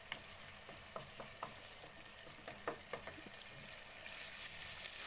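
Tomatoes cook in a pan with a steady soft sizzle, broken by several light stirring clicks and scrapes; the sizzle swells a little toward the end, and no one speaks.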